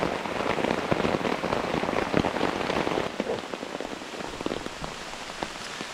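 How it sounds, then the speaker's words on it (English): Heavy rain pours steadily during an Appalachian rainstorm at a campsite, a dense hiss of drops drumming on a surface nearby, constant and unbroken. "it's pouring. My cover is keeping me dry for now. Just gonna chill till the rain blows over."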